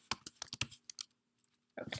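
Quick bursts of keyboard typing, a flurry of clicky keystrokes, a short pause, then another run of typing close by.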